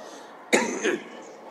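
A single sharp cough, close and fairly loud, followed by a short rougher rasp, against a low background hiss.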